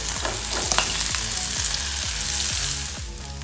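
Potatoes tipped into a hot pan fry with a loud, steady sizzle, broken by repeated stirring scrapes of a spoon against the pan. The cooking is close by and no one speaks.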